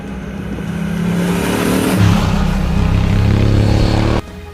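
Unicam four-valve parallel-twin motorcycle engine with a 270-degree crank revving up, a loud rising snarl that swells, holds steady, then drops off abruptly near the end.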